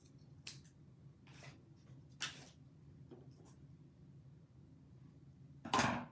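Scissors snipping card-making paper in a few short, crisp cuts spaced apart over a quiet room hum, close and faint, with a brighter clatter near the end and no talking.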